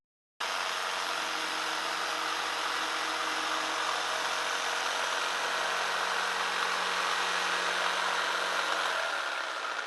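A jigsaw cuts through a wood test piece on a workbench with no tape applied, a steady, loud, continuous motor drone with buzzing blade vibration running unbroken from start to finish, with no voices.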